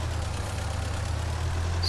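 A small Manitou telehandler engine in Farming Simulator 19 drones steadily at idle-like pitch, a low continuous hum with no talk.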